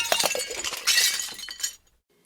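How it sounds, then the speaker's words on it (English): A glass-breaking sound effect plays close and loud as a burst of shattering and clinking shards that tapers off into silence. "Glass breaking?"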